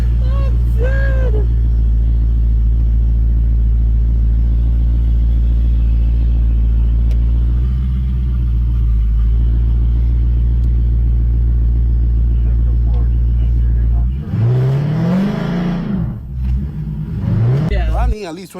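A Dodge Charger R/T Scat Pack with the 392 engine rumbles steadily at idle for a long stretch, a deep continuous drone, then swells louder near the end as it revs. Voices talk faintly over it.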